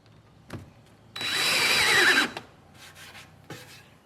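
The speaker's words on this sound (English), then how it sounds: "I'm just going to put a couple of screws in there now to hold it" A power drill drives screws into a wooden seat on a Welsh coracle being built. A single sustained whirring burst of about a second sits between a few short knocks and handling sounds.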